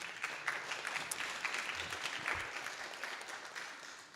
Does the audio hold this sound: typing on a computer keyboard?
no